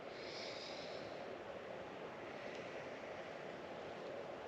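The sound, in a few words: exhaling through the nose during Kundalini breathing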